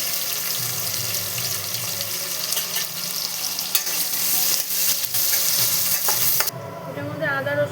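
Two large onions fry and sizzle in hot oil with whole garam masala (cloves, cinnamon, cardamom), a steady broadband crackle near the pan with scraping stirs, giving way near the end to running tap water.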